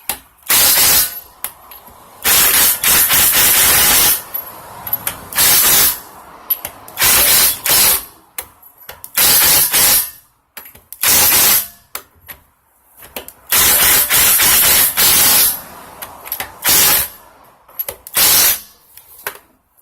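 Impact wrench tightening lug nuts during a tire rotation on a 2017 Jeep Cherokee, loud close bursts of buzzing hammering, about a dozen separate pulls of varying length with short silent gaps between.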